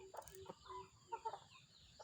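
A large rooster clucks in short, soft bursts, faint and close-ish, with a low background hum and slight murmur of a person talking nearby.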